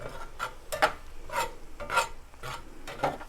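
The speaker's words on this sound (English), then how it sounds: "And we're just going to toss our beef." Beef being tossed in a pan with onions for a Korean beef bowl, heard as several separate scraping, rasping stirs spaced about half a second apart, moderately close and with no talking over them.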